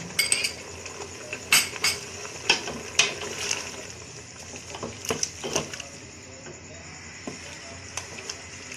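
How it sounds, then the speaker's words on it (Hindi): A metal spoon clinks and scrapes around a cooking pot in uneven strokes while biryani ingredients fry, nearby and moderately loud, with faint background sizzle. "अब इन सब चीज़ों को मैं अच्छी तरह भून लूँ"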